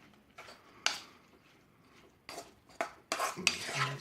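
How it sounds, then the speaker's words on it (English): A utensil stirring melting unsalted butter into shrimp in a pan lifted off the burner, with soft scraping and a few sharp clinks against the pan, intermittent and close. "We'll continue to stir this up until it completely incorporates here in our dish."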